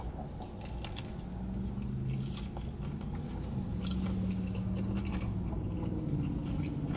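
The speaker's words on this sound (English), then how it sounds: "let's go in for a bite for the Beefy Crunch Burrito from Taco Bell" A few crunchy bites and chewing sounds from a Taco Bell Beefy Crunch Burrito, close up and fairly quiet, with no talking.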